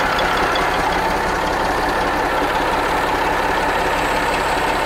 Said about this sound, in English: This truck is running.